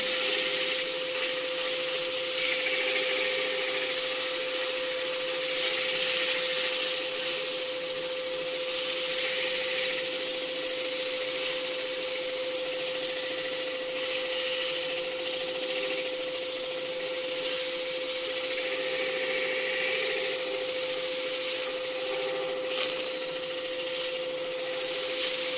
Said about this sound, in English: quickly sand off this